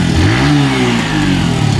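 A TVS Phoenix 125 motorcycle engine revs up and eases back close by, its pitch climbing and falling in a couple of throttle blips over a steady mechanical idle, with no talking.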